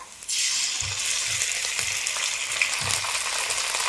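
Ground ginger paste hits hot oil with lightly fried onion and garlic for a bitter gourd curry, bursting into a loud, continuous sizzle with soft periodic stirring thumps underneath.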